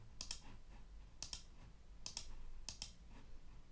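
Computer mouse clicks, one after another, come in four close pairs of sharp, faint clicks spaced about a second apart over quiet background.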